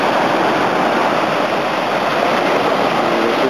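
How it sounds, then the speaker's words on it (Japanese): Sea waves wash and splash over a coastal path near a small fishing harbour, a steady, loud rush of surf and spray filling the whole stretch without pause and with no voices. "途中波かぶってます"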